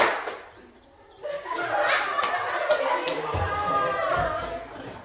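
Children in a clapping game, with a short burst of sharp hand claps at first, a quiet pause, then a busy stretch of scattered claps mixed with laughter and lively kids' voices chattering throughout.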